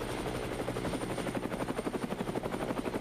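A helicopter in the Resident Evil 7 video game drones with a steady rapid rotor chop, a loud continuous thumping pulse with engine whine underneath, heard alone without talk.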